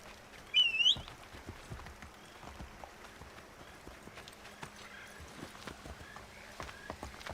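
Hooves of a horse clip-clop in Assassin's Creed III, a quiet irregular trotting patter with a brief louder burst near the start and faint bird-like whistles over soft ambience.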